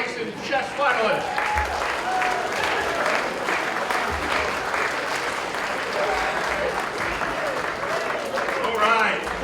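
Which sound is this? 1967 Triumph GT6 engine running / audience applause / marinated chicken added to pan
audience applause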